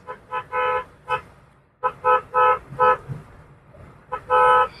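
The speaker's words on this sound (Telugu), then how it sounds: "కారుకి తగ్గ హార్న్ అనమాట, చాలా బాగుంది." The horn of a Toyota Corolla Altis 1.8G honks repeatedly in short bursts and a few longer blasts, loud and close, with a quiet gap partway through.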